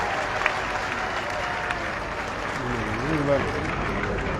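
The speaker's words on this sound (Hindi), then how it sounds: "जोरदार तालियां बजा करके आदरणीय अमित शाह जी का स्वागत करें" Applause from a crowd at a political rally welcoming Amit Shah in Karnal district, moderately loud and continuous, with a voice rising briefly over the clapping toward the end.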